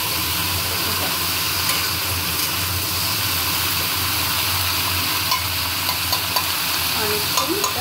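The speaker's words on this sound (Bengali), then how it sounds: "অনেকক্ষণ এটা ভাজা হবে।" Mixed vegetables, including pumpkin, eggplant, green banana, carrot, jackfruit seeds and papaya, fry in a pan with a steady close sizzle and hiss, with occasional stirring scrapes and clinks near the end.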